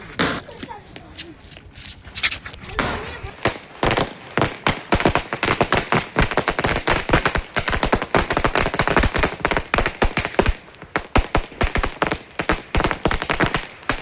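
Rapid crackling bursts of night fireworks exploding in a long, dense string of sharp pops, loud and close, with voices underneath.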